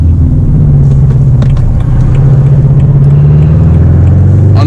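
A manual six-speed BMW 1 Series E82 drones steadily from inside the cabin after a downshift to second, with a few brief exhaust crackles and pops over the loud, continuous engine note.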